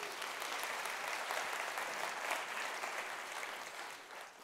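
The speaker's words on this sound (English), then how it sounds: "How about a round of applause for Cherie?" Steady, dense applause from a keynote audience at a user conference, a full wash of many hands clapping continuously for about four seconds before starting to taper off at the end.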